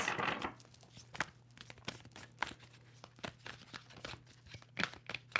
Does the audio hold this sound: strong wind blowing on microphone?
no